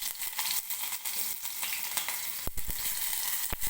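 Onion hits hot oil in a pan for a Maharashtrian kat vada curry, a steady crackling sizzle with a few sharp pops and spits, close and alone with no voices.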